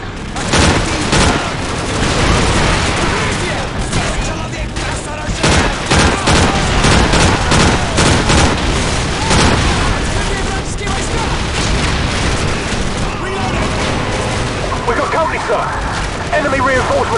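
Dense gunfire and booming explosions from the Call of Duty 4 mission The Sins of the Father keep up a loud, nearly unbroken barrage of rapid automatic bursts and heavy blasts.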